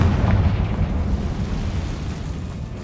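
The Confringo blasting spell goes off in Hogwarts Legacy as a deep, booming explosion. It is loudest at the start and rumbles away over the next few seconds with no voices.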